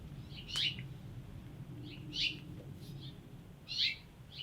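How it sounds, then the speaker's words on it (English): A loud bird calls outside an art lab, giving three sharp, high chirping bursts a second or so apart over a low background hum, heard at a distance. "There's a really loud bird that lives outside of Miss Kate's and my art lab."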